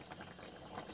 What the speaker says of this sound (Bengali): ঝোল ফুটে উঠেছে।